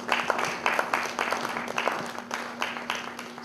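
An audience at a stage event claps to welcome an actor, with scattered uneven hand claps and a faint steady hum underneath.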